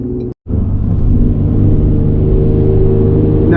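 Straight-piped Ford Explorer Sport exhaust heard from inside the cabin, a loud steady low drone with deep rumble, briefly cut out near the start and then holding a constant cruising tone.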